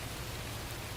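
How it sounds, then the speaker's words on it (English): Steady recorded rain plays softly in the background, a dense, even patter of drops on a surface with no gaps and no voices over it. "I've decided I'm just gonna let rain sounds play in the background."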